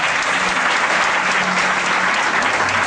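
A church congregation claps steadily throughout a Saturday worship service, dense sustained applause filling the room with no break and no one speaking.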